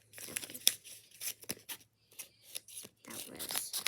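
Plastic packaging around a small fidget toy is cut and torn open, with close, uneven crinkling, snipping and ripping bursts separated by brief pauses.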